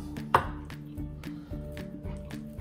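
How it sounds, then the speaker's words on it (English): Knife chopping through bistec on a cutting board while slicing it into fajita-style strips, a sharp close knock near the start followed by several softer cuts over steady background music. "I'm just gonna cut it into like strips, almost like if you were making"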